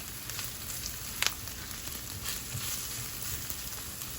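Vegetables frying in hot oil for vegan fried rice, a quiet steady sizzle close by with a faint clink partway through, no voices.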